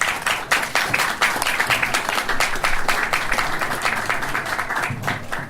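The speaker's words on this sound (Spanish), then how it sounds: "Recibimos con un fuerte aplauso a nuestro director de cultura, arquitecto Melvin Hoyos Galarza" A hall audience at a cultural lecture gives warm applause for a visiting architect and culture director, many hands clapping steadily and fairly close, a continuous crackling patter lasting several seconds.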